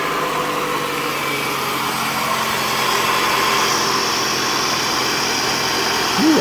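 A Toyota car engine idles steadily just after start-up, close and even, with a constant hum and light mechanical whir.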